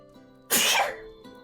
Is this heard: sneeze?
yes